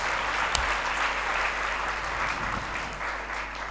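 Church congregation clapping hands in praise, a steady dense wash of applause running unbroken from start to end, fairly loud and close, with no voices over it.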